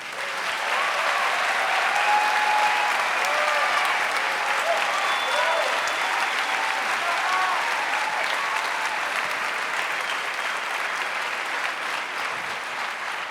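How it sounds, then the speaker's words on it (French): Sustained applause from a concert audience in an auditorium after a children's choir performance, dense steady clapping holding at full strength for over thirteen seconds with a slight tapering near the end, no voices over it. "Je crois qu'on peut encore les applaudir"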